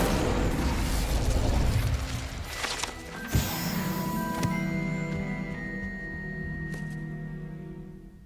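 An Incendio fire spell is cast in Hogwarts Legacy, a loud roaring fiery burst with crackling that fades into a sharp pop and lingering magical ringing tones.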